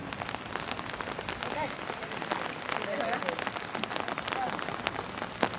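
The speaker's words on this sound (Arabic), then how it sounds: "مع المطر بجد" Rain falling outdoors during a trip in Busan, South Korea, a steady dense patter and hiss of drops throughout, moderately loud with faint voices in the background.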